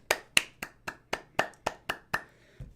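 A slow golf clap: a single pair of hands claps about nine times at a steady, unhurried pace, each clap crisp and close with nothing else in the background.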